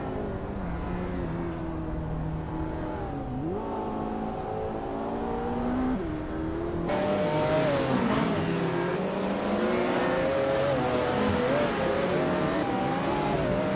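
Race cars drive around a track in a racing video game, several engines revving and shifting with rising and falling pitch, growing louder and busier in the second half as more cars close in.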